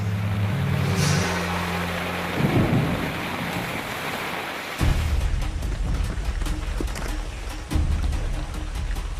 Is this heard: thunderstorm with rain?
yes